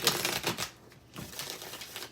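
Quick riffling and flicking of tarot cards shuffled by hand, close and fairly quiet, in two short bursts with a brief pause between.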